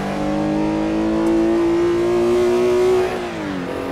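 A Porsche 906 E racing engine in Assetto Corsa howls at high revs on a historic 1960s track, the tone holding and climbing steadily before dropping sharply as the car lifts off, with no voices.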